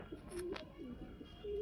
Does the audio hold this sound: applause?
no